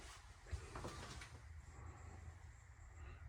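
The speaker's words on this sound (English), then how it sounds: "Over here, we have our closet, sliding doors." Closet sliding doors inside a Keystone Montana RV roll along their track in a short, soft rumble near the start, then settle into a quiet room hum with no talking.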